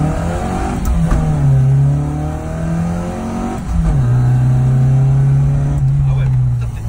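A Mini Cooper S engine revs hard while being driven, rising and falling through the gears in a loud, steady drone heard from inside the cabin, with people talking over it.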